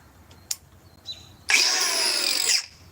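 A Milwaukee power tool spins up at high speed for about a second of loud, bright whirring, preceded by a couple of short clicks and a brief test whir.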